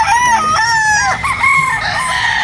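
Several SBR breeder chickens on a poultry farm crow and cluck close by in a continuous, loud, overlapping run of calls with no talk.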